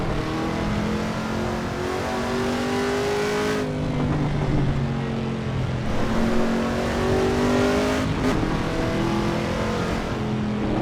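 A race car engine in the Assetto Corsa EVO sim racing game revs loudly and continuously on cold tires, climbing through the gears with repeated rising pitch sweeps and brief shift breaks.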